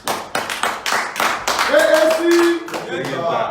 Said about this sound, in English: Then you have to give them a round of applause from your end.